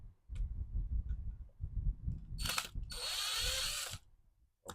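A ratchet wrench loosening bolts during a cable repair job, heard as a series of close mechanical clicks and a longer whirring stretch of pawl ticks, with low thumps between bursts.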